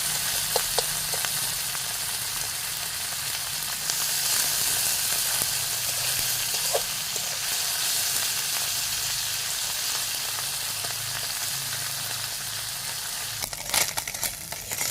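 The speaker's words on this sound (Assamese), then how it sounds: "এনেকৈ অলপ অলপকৈ গোটেইখিনি ভাজি ল'ম।" Pieces of fish sizzle steadily in hot oil in a wok, a continuous close crackle and hiss running the whole time with a few sharper pops and clatters near the end.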